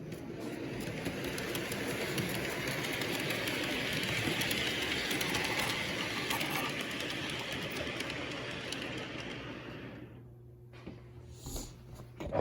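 A toy train runs on a train set track through a toy town, a continuous close rattling clickety-clack that holds steady, then drops away near the end.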